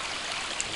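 Water flowing over a small dam swollen with snowmelt and spring rain, a steady broadband rush held close and even for the whole stretch, with no voices.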